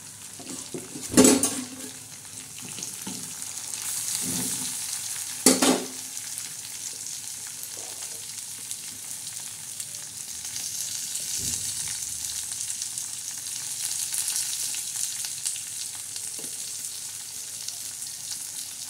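Brinjal (eggplant) frying with spices in a pan, a steady close sizzle with two sharp clanks of a utensil against the pan near the start, then gentle stirring, no speech.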